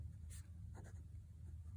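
Sheaffer Prelude fountain pen nib writing on a smooth Rhodia paper pad: faint, close scratchy strokes in a few short bursts over a low steady hum, with no talking.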